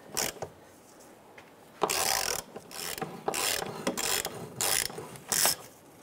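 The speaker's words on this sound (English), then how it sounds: "I'm going to keep on doing this back and forth to get these bolts to come out nice." Ratchet wrench working transmission mount bolts back and forth on a 2005-2010 Chrysler 300, close bursts of rapid clicking ratchet strokes separated by short pauses, alone without talk.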